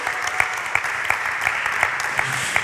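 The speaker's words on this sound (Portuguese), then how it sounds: "Forte esse aplauso ao Senhor!" Audience clapping for the Lord during a lively church service, a steady moderate wash of applause with periodic sharper accents, no voices over it.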